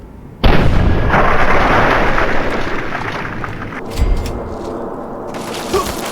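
Loud gunfire from a weapon in the post-apocalyptic video game Fallout 3, one heavy booming blast that rumbles on and decays, followed by a smaller second burst and a faint pop near the end, alone without talk.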